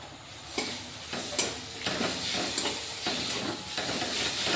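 Onions and garlic paste fry in a pan with a steady loud sizzle and hiss, broken by a few sharp stirring scrapes.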